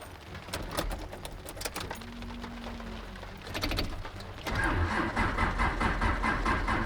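A 1986 Mazda engine cranks in several uneven bursts, then a louder, steadier running roar takes over partway through, heard close and without talk.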